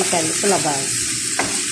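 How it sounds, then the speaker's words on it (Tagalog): Spicy shawarma frying in a pan gives a steady, close hiss of sizzling and stirring, with a voice speaking briefly over it at the start. "Paluto na din ang ating spicy shawarma."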